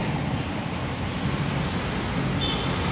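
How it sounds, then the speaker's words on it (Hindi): Road traffic passing along a street beside buildings and shops, a continuous low rumble of vehicles with a brief higher tone near the end, no voices. "इधर गाड़ी चल रही है"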